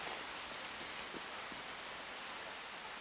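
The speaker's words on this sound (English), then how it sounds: "I love the bit where it rains on him" Steady rain pours down in a 1998 film scene, a dense continuous hiss of falling water at a constant level with faint scattered drop patters and no talking.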